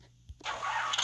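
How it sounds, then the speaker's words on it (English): A 4.7 liter V8 muscle car engine in a video game cranks once and catches, then settles into a loud, rough, steady rumble, heard up close with no voices. "When you start it up, it sounds like a monster truck"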